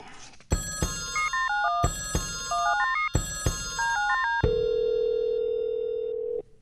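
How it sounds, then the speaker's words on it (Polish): An old-style telephone rings in three bursts, each with a tinkling melodic bell pattern, then a long steady tone sounds until it cuts off. "Taki telefon."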